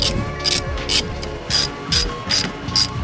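A ratchet loosens a battery terminal nut on a Porsche 944, a close, crisp clicking ratchet in regular bursts of rapid pawl clicks, about six strokes, with no talking.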